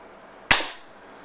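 A single sharp crack from a Beeman P1 .22 air pistol fired on high power, loud and close, with a short decaying tail against a quiet background.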